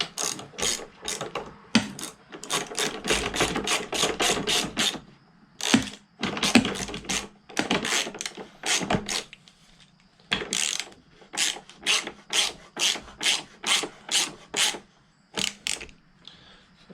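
A ratchet tightens a nut on an eye screw mounted on fuel barrel storage, giving rapid clicking runs in repeated bursts with short pauses between strokes, loud and close.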